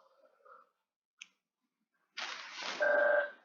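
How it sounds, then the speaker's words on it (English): A telephone rings with a short, steady electronic tone near the end, following a burst of close rustling noise and a few faint clicks. "So the phone is ringing"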